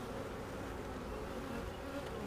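A honey bee swarm gives off a dense, steady buzzing hum of many insects together, close and continuous, with no voices.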